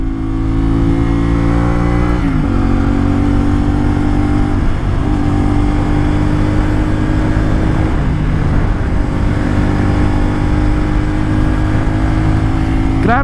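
CFMOTO 450SR 400cc-class sportbike engine revving hard while being ridden, a loud continuous droning roar with a quick dip and rise in pitch as the throttle changes, close and alone without talk.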